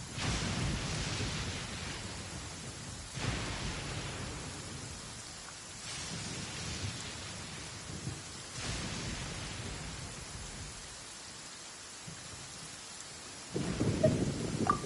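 Thunderstorm in the Genshin Impact video game: steady heavy rain with repeated deep rolling thunder rumbles, about five in sequence, the last one closer and louder, no voices.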